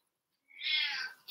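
A single drawn-out cat meow rises out of silence, close and fairly loud, sliding through a bright wavering tone before fading, with a brief fresh sound starting at the very end.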